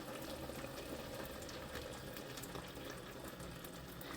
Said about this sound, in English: I'm going to add another 2 cups of water to this because I feel like it needs some more water